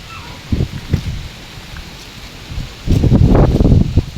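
Wind gusts rustle through rice fields, two short swishes followed by a longer, stronger sweep of rustling near the end.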